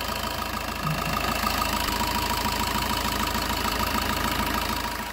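A Suzuki Ertiga Diesel Hybrid engine idling steadily nearby, a constant low rumble with a faint rhythmic knock and no variation.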